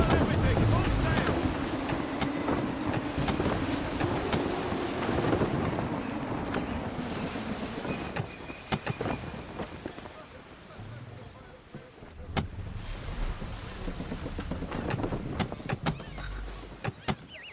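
Sailing ship running at full sail in Assassin's Creed III: a steady loud roar of wind and rushing ocean water with creaking timbers, a voice shouting orders over it, then the wind eases into lapping waves.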